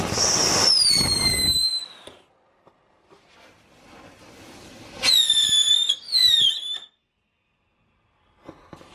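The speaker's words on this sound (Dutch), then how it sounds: "ik ga nu de tuin in om het vuurwerk ook af te steken" Whistling fireworks set off in a garden shriek with sharp descending whines and crackles in several bursts, separated by quieter pauses with faint pops.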